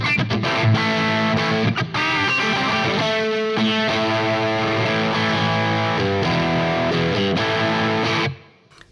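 Electric guitar with a single-coil pickup driven through a Havok FO-2 FET overdrive pedal, playing sustained, lightly overdriven chords and riffs at steady volume for about eight seconds before cutting off near the end.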